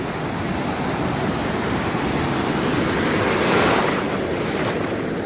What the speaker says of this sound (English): tide's definitely coming in right now. That's what's happening. Because these waves are slowly, incrementally getting bigger and bigger.